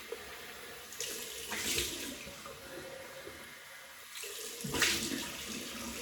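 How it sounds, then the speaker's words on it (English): Tap water runs steadily into a bathroom sink for a cold rinse after shaving, a continuous close splashing stream with two brief surges as hands cup and splash the flow. "cold water rinse."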